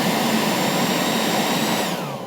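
A Ryobi 40-volt leaf blower runs at full speed with a steady, loud rushing whine up close, then begins to spin down and fade at the very end.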